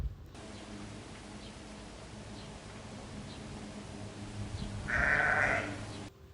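A sheep on an Austrian sheep farm gives a single bleat partway through, faint to moderate, over a quiet, steady outdoor background hum.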